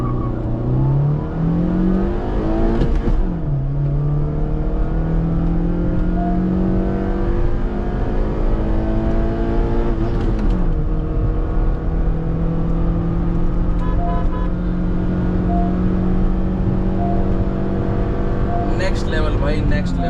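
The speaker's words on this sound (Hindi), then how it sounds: "अब सपोज करो हम करते हैं लॉन्च 3000 अराउंड पे RPM पे" A Honda City on adjustable coilover suspension, tyres at 32 psi, launches from around 3000 RPM. The engine howls loudly and climbs in pitch, drops briefly at each gear change, then climbs again through several gears.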